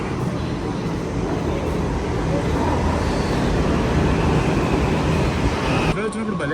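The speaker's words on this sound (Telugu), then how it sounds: "వచ్చింది మన మెట్రో." A Delhi metro train pulls into the station with a loud, steady rumbling roar and rush of air that cuts off sharply near the end, while a voice speaks over the din.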